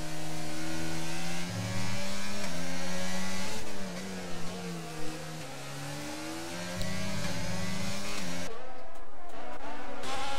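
A race car loses control and spins out with a broken rear wing in a racing video game, its engine droning loudly with shifting pitch before the sound cuts off sharply near the end.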